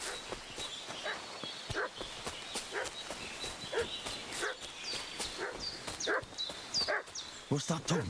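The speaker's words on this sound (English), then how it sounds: "What's that dog making such a fuss about?" Dog barking in the video game Kingdom Come: Deliverance II, repeated yaps at a distance, mixed with hoof clops and footsteps under ongoing talk.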